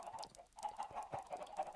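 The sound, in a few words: chickens clucking in a video game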